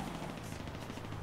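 Quiet, rapid automatic gunfire in GTA roleplay, a continuous rattling burst heard at some distance.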